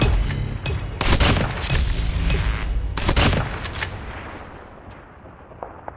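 Rapid bursts of gunfire from shotguns and sniper rifles in Call of Duty Mobile, loud and close, with repeated heavy shots clustered over several seconds and fading toward the end.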